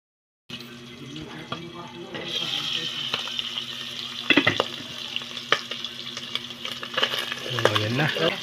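Pork adobo fries and sizzles in a pan while a utensil stirs and scrapes through it, with a steady crackle building and sharp clinks of the spoon against the pan.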